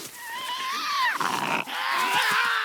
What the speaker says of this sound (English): As the situation escalates, growling begins.